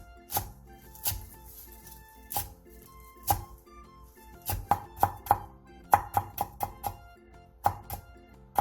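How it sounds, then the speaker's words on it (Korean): Knife chopping coriander with its roots on a cutting board, sharp crisp cuts starting sparse, then speeding into quick irregular bursts of close, distinct chops. "고수 반줌을 1cm 정도 길이로 뿌리까지 함께 잘라주세요"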